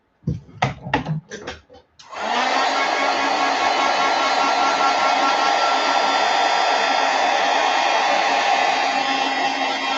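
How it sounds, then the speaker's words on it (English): A heat tool blasts hot air onto freshly painted work, starting after a few seconds of light handling clatter and then running as a loud, steady whoosh to the end. "And then quickly heat set this one."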